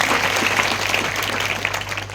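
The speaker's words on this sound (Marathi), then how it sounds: "श्री भानुदासजी शंकर एकडे यांच्यासाठी जोरदार टाळ्या झाल्या पाहिजे" An audience at a devotional kirtan in Bhalegaon bursts into dense, sustained clapping for a donor, a loud, even wash of many hands that holds steady throughout.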